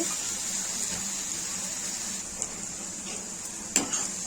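Chopped onions sizzle steadily in a hot pan for a dried bombil masala dish, a soft constant hiss with a couple of light utensil clinks near the end.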